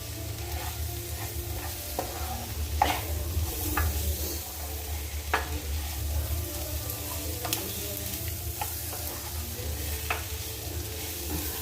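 Prawns sizzling in a hot pan while a spoon stirs them for a Kerala-style prawn roast, a steady soft fry with scattered scraping clinks from the stirring.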